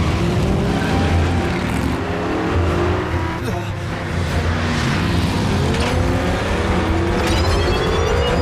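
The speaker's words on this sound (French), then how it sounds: "Attends, je connais cette voiture." Cartoon car engine from a Transformers Prime chase, roaring loudly and steadily with passing whooshes and a brief tire skid, under dramatic action sound effects.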